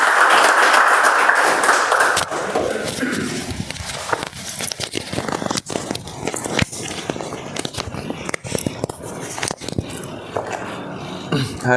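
A Toastmasters club meeting audience welcomes the timer with a round of applause, a dense burst of clapping that fades into scattered, uneven claps and shuffling near the mic.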